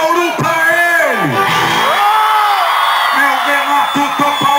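A large rodeo crowd at the Expo Bauru 2009 shouting and whooping together for the town of Bauru, loud and sustained, with an announcer's amplified voice calling out over the roar.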